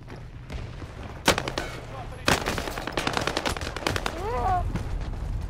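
Rapid machine-gun bursts and sharp single shots crack through a Call of Duty: Modern Warfare firefight, loud and close, with repeated volleys building across the moment over a steady low rumble.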